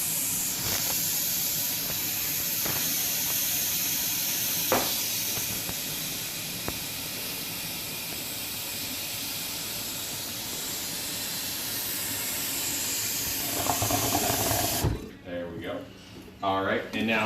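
Water rushes steadily with a loud hiss into a pressurized water fire extinguisher, ending in gurgling near the end as it fills, while people talk throughout.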